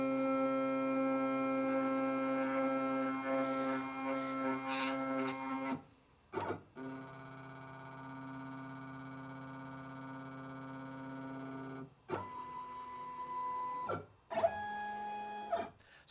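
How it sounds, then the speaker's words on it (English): A Shapeoko 5 Pro CNC machine runs its bit setter routine to measure the tool, with a sustained whining stepper-motor hum that changes pitch through several stages, separated by brief pauses and short bursts of motion. "here you can see the bit setter measuring the tool"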